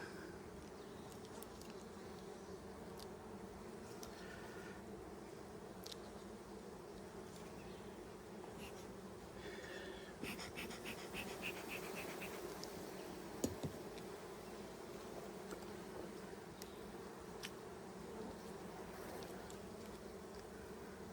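Honeybees hum steadily around an open hive during an inspection of brood frames, a dense continuous drone with a few louder buzzes passing close.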